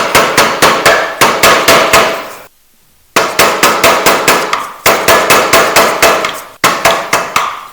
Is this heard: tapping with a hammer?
yes